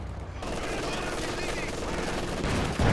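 Continuous machine gun fire in a Company of Heroes 2 battle, a dense, loud, unbroken rattle with battle noise around it and a heavy blast at the very end.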